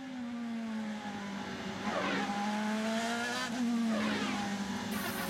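A 2010 Honda-powered IndyCar on the St. Petersburg street circuit, heard onboard as the engine holds a high, loud whine that rises and falls through throttle changes and gear shifts, continuous and close with no talk.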